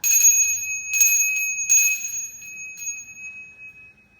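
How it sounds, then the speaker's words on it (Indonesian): A genta, a Balinese hand bell, rings in three clear struck bursts, each leaving a sustained bright metallic tone that decays and fades, with no voices. "dia persis menirukan gerakan ayahnya dengan membunyikan genta"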